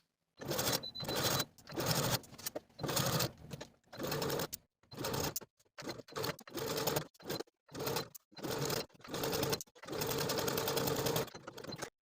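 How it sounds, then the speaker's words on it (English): A sewing machine stitches a seam on a 1940s-style blouse in repeated short bursts, each run of whirring stitches separated by brief pauses, close and fairly quiet. "I'm just going to stitch right along that previous stitching line all the way around."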